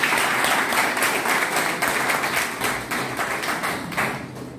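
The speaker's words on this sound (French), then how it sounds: "j'aimerais déjà qu'ils s'acclament" Sustained applause from an audience cheering trainees of an entrepreneurship training centre, a dense, steady wash of many hands clapping that fills the whole stretch at an even level.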